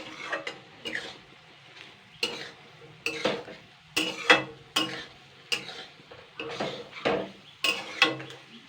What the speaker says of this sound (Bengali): সমস্তগুলো এবারে আমি নাড়াচাড়া করে নেব।